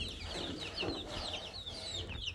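Chickens clucking on a farm, several birds chattering and clucking close by in a continuous overlapping stream, with outdoor background noise.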